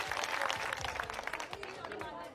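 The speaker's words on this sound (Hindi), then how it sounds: "सबसे पहले हमारे कार्यकर्ताओं के लिए एक बार जोरदार तालियां।" A crowd at an Aam Aadmi Party public rally in Delhi's Badli constituency claps for party workers; loud, dense applause with scattered sharp claps and voices over it, tapering slightly toward the end.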